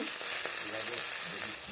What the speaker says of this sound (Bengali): ঢেঁড়সগুলো ভাজা হয়ে গেছে এবার তুলে নেব